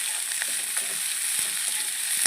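Momos frying in a pan give a steady, dense sizzle with faint crackles and a few soft taps, close and even throughout, with no voices.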